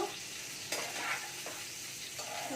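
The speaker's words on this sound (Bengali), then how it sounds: "ফুলকপিগুলো একটু লাল লাল করে ভাজবো।" Cauliflower browning in hot oil, a continuous close sizzle broken by a few scraping strokes of a spatula stirring the pieces, no voices present.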